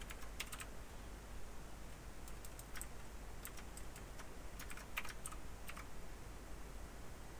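Faint, irregular clicks of typing on a computer keyboard come in short bursts and scattered keystrokes over a steady low background hiss, with no one speaking.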